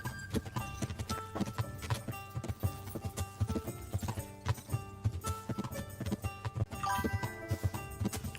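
Horse hooves from a video game, a steady close clip-clop rhythm of repeated hoofbeats continuing throughout over a musical background.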